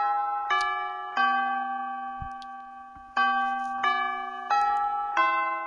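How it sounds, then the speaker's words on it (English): Bells toll in the visual novel Hatoful Boyfriend: five or six clear, ringing strikes at an even pace, each sustaining and overlapping the last, loud and alone with no talk. "While the bells toll"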